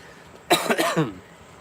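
A single harsh, chesty cough from a man who is under the weather, close and loud, a short burst of two or three rough pulses before quiet returns.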